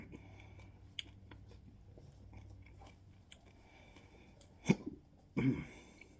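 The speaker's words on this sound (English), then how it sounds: "The hiccups were predictable." A man hiccups after eating the Paqui One Chip, two sharp, close hiccups near the end following a stretch of faint chewing and small mouth clicks.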